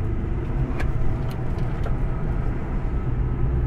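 Steady interior road and engine roar from a restored Java Black Pearl Subaru STI being driven hard through corners, a loud continuous rumble with faint ticks above it.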